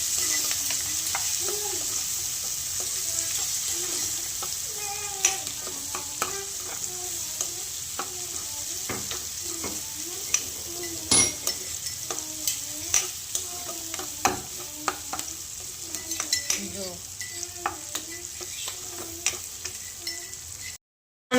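Onions frying with turmeric in a pan give a steady close sizzle, broken by frequent scraping and tapping stir strokes throughout.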